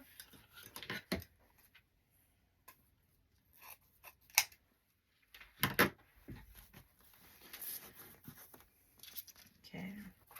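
Scissors trimming a ribbon tail on a Christmas wreath, a few quiet scattered snips and rustles close by, separated by near-silent gaps, with soft speech in places.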